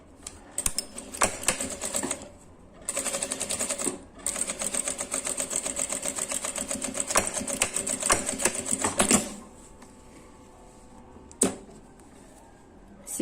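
A sewing machine stitches a seam on a fabric essential-oil holder in several fast bursts with short stops, then falls quiet except for a single brief clack near the end.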